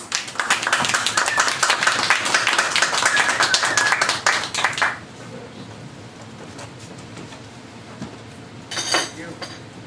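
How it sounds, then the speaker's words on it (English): Audience at a cafe event gives a round of applause, dense loud clapping for about five seconds that fades out, followed by quiet room tone and a brief clink. "Let's give them a round of applause."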